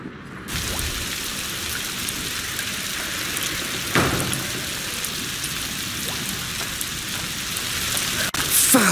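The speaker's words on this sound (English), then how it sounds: "Foul rain." Steady rain pours down as a dense, even hiss in the video game A Plague Tale: Requiem, near and constant for the whole stretch, with a faint thud partway through.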